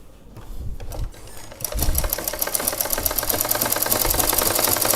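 A sewing machine stitching a petticoat: a brief hesitant start, then a fast, steady mechanical rattle of the needle running continuously, close and loud.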